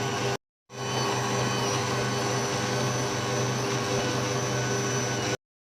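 An electric stand mixer kneads dough for honey cookies, a loud, steady motor whir that starts after a brief silence and runs unbroken before cutting off abruptly.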